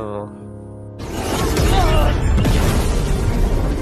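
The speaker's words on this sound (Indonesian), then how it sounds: "Ledakan terjadi hingga membuat Bai Li Duanmu terpental dan terkapar di tengah arena." Explosion in an animated martial arts fight, a sudden loud roaring boom that bursts in after a sustained tone and rumbles on, with a voice heard over it.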